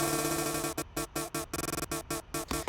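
Unprocessed granular chops of an a cappella vocal, cut up in the Quanta synth, stutter in rapid, rhythmic bursts of a dry, thin voice, close and alone, with the grains starting and stopping in quick succession.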